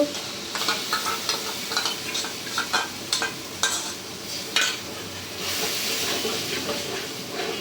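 Ground spice paste for a rui fish curry sizzles and fries in hot oil in a pan. Close, steady hissing runs throughout, with repeated scraping strokes from stirring.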